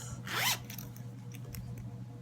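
An orange zipper on a handmade fabric pouch padded with fleecy interfacing is pulled once in a quick, close rasping zip, followed by faint handling sounds.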